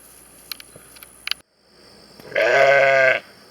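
A single loud, drawn-out bleat rings out close by after a few soft clicks and taps.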